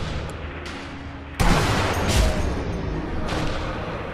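Rifle fire in the Sniper Elite V2 co-op shooter: a sharp loud report breaks in partway through, followed by a run of rapid shots and booms over a rumbling battlefield backdrop.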